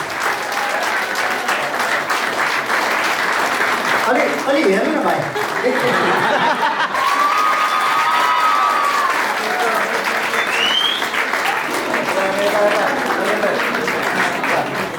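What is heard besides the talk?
wedding guests applauding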